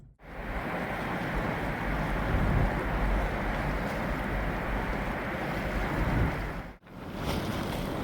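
A sailboat under way at sea at night off the San Francisco waterfront, heading toward the Golden Gate: a steady rushing wash of water and wind noise along the hull, close and fairly loud, briefly cut near the end.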